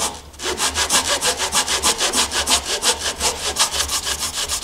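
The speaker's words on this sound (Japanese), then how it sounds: "これも同じく、墨線よりも内側を切ります" A hand saw cuts into wood for a DIY inner window frame, giving quick rhythmic back-and-forth rasping strokes that are close and loud and run steadily after a brief pause at the start.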